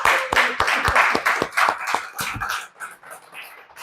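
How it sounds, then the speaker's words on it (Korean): A church congregation claps together to welcome a returning brother during a Sunday service: a burst of dense, fairly loud applause with sharp individual claps that thins out and fades over a few seconds. "일어나서 한번 인사해 주시고 우리 박수로 환영합니다"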